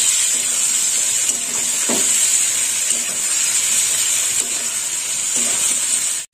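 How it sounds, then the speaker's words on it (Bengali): Bottle gourd stir-fried with green chilli paste and spices in a pan, a continuous bright sizzle and hiss with soft stirring scrapes, fairly close and loud. "এবার একটু কষে নেব।"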